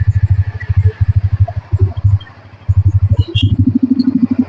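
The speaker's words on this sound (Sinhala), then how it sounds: "ඒ එන්ජින් සවුන්ඩ් එක අපිට මෙන්න මේ වගේ සවුන්ඩ් එකක් තමයි බලා ගන්න පුළුවන් වෙන්නේ" A Bajaj Pulsar N160 160cc motorcycle engine running close by, with a loud pulsing exhaust rhythm that drops briefly and then returns, ending in a slightly higher rev.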